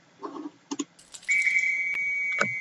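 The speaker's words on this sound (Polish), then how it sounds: "Tutaj mamy jeszcze takie fajne gwizdek." A few faint clicks, then a sharp, steady high-pitched video game whistle blast in Roblox Brookhaven RP, held for over a second, ending with a short click.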